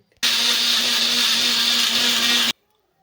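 A mixer grinder blending tomatoes and dried red chillies runs on its own for about two seconds, a steady high-pitched whirring grind that starts and stops abruptly.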